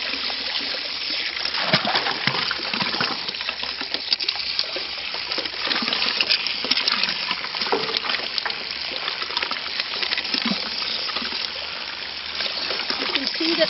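Water and soil poured little by little into the inner bucket of a flotation setup, a steady splashing, trickling wash that runs continuously at close range, with faint voices in the background.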